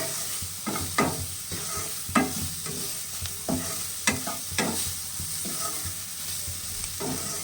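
Homegrown spinach frying in a pan, a constant close sizzle broken by repeated sharp scraping and clacking strokes of a spatula stirring it, with no one speaking.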